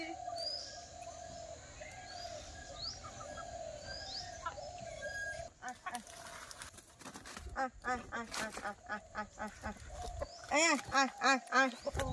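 Backyard chickens in a rural Sundarbans village garden, clucking and calling at close range, mixed with other birdsong, a voice nearby, and a run of loud rhythmic calls toward the end.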